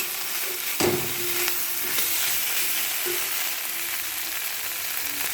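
Vegetables and spices fry in a kadai, a close, even sizzle broken by a sharp knock of the spatula and a few soft stirring scrapes, with no talking.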